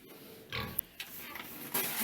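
A few short grunting oinks from piglets close by in a barn, broken up by brief sharp clicks and knocks, with a quiet background in between.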